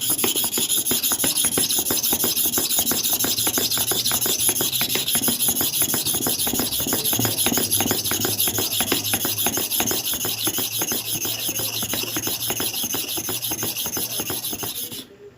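A Starex clipper blade rubbed back and forth on a double-surfaced sharpening stone, giving a fast, steady, rhythmic scraping that is close and continuous and fades slightly at the very end.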